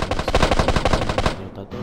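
Rapid automatic gunfire from GTA San Andreas rattles out in a dense, loud burst for over a second, then cuts off, leaving a brief quieter tail of game ambience.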